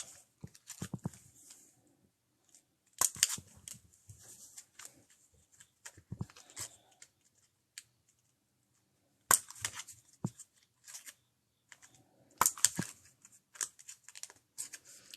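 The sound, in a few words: scissors trimming a tablet weaving card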